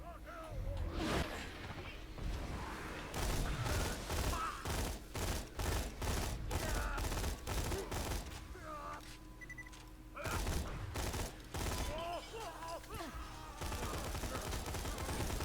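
Gunfire in Borderlands 2 with a sniper rifle and other weapons, repeated sharp blasts in uneven bursts, loud and close, mixed with game effects and voices talking in between.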